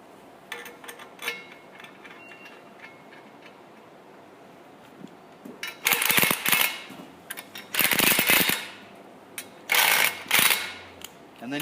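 Bolts being tightened on an early Ford Bronco radius arm with a ratchet, first light ticking, then several loud, close bursts of rapid ratcheting clicks separated by brief pauses.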